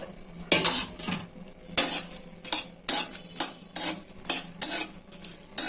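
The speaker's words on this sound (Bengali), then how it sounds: "এখন মরিচগুলো ভেজে নিচ্ছি।" Repeated metallic scraping and clinking of a utensil against a pan while frying chilies in oil, about a dozen strokes in steady rhythm, close by, with little sizzle audible.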